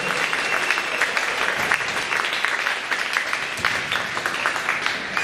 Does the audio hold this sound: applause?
yes